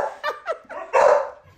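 A dog gives a quick series of close, loud barks and yips, three short ones followed by a longer, stronger bark, with no other sound around them.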